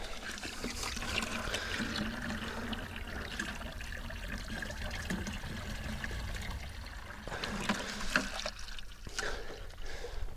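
Water is poured over an outdoor compost pile in a steady, continuous rushing wash that stays fairly loud and even for the whole stretch, with no voices over it.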